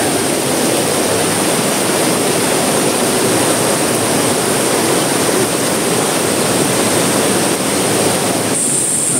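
A waterfall in Cebu roaring in a loud, unbroken broadband rush of falling water heard up close, steady throughout with no voices.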